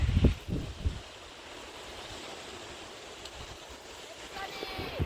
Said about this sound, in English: Get to pay a little visit to the small waterfall right there.